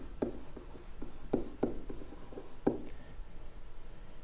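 Pen or marker strokes on a board during a math lesson on linear equations from tables, a series of short scratchy taps and rubs in an irregular rhythm, close and fairly quiet.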